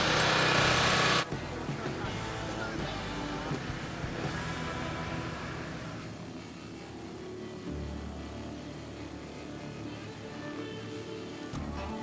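A spaceship's engine exhaust in the video game Star Citizen gives a steady mechanical hum and rumble after a loud burst in the first second, continuing at an even level while voices talk faintly over it.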